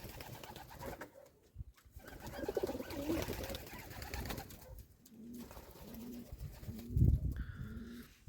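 Pigeons at a village coo in soft, repeated low calls, several short coos in a row later on, over quiet rustling and faint background noise with no talking.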